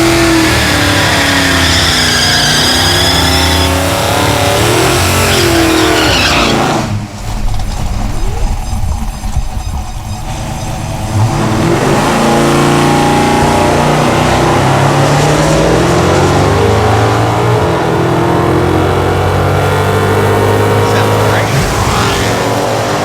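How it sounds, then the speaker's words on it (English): Hemi-powered drag race cars, a Hemi gasser and a Hemi Super Bee, rev loudly and launch down a drag strip, engine roar rising and surging with a brief dip, alone and close. "2 passes in a row all the way down the drag strip with no fire."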